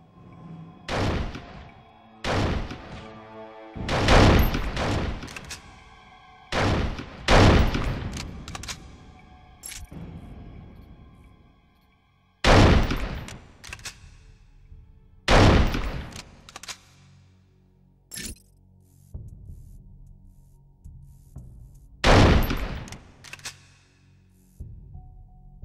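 Sniper fire in the 24 video game erupts in a string of loud, sharp gunshot bursts, some doubled or clustered, separated by brief quiet gaps with faint background sounds.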